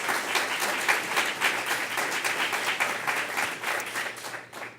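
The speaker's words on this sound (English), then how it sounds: "Let's give them a big round of applause." An audience at a Denver council candidate forum gives a warm round of applause for the two candidates, steady close clapping with slight swells that fades at the end.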